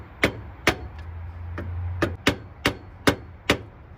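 Slow, evenly spaced sharp metallic taps, about eight in a row, as an alternator on a Chevy Silverado, Suburban or Tahoe is knocked to line up its bolt holes; each strike rings briefly in a quiet space.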